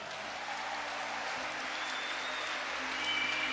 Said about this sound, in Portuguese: E aplauda a fé do seu irmão.